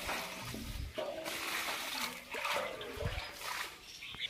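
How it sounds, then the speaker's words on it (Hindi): Washed horse feed grain draining its water, a steady trickle and splatter of liquid running off continuously with a few small splashes, close and fairly quiet. "इसमें निकाल दिया क्योंकि पूरी तरीके से पानी निकल जाए"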